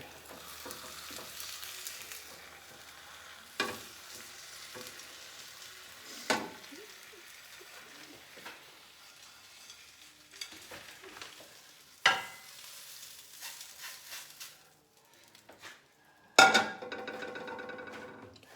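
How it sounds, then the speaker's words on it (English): Egg white omelette stuffed with vegetables in a pan with the heat off: faint scraping and soft clatter as it is folded over, with a few sharp knocks and a clink near the end. "Take the lid off, and just gently fold this over."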